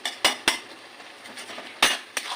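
Metal utensil clanking against a pan while sautéing banana flower with prawns and potato, several sharp separate clinks spaced irregularly, close and fairly quiet with no talk.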